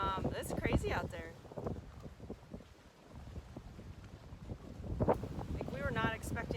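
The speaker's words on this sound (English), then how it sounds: "We have 20 to 30 knot winds. It's crazy out there." A strong 20 to 30 knot wind buffets a sailboat moored in Stuart, Florida, roaring and rumbling loudly against the microphone throughout while a person talks over it.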